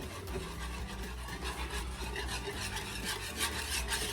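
A spoon or spatula scrapes and rubs steadily around a cast iron skillet as milk is stirred in, a continuous close-up rasping scrape with no talking.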